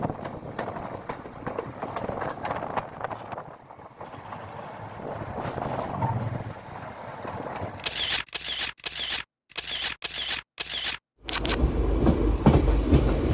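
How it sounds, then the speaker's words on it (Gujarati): A train running between Khodiyar and Gandhinagar Capital stations rolls on with a continuous rumble and rattle, then rhythmic clattering wheel beats on the rail joints arrive near the end, loud and close. "વ્યુઅર્સ, રેડી થઈ જાઓ ટ્રેક સાઉન્ડ માટે."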